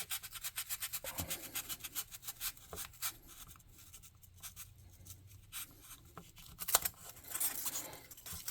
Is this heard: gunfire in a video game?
no